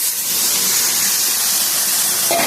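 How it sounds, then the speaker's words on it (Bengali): Water poured into a hot pan of kidney bean curry, giving a loud, steady steaming hiss and sizzle that fills the short moment, with no voice over it. "এই পর্যায়ে এখন জল দিয়ে দিচ্ছি"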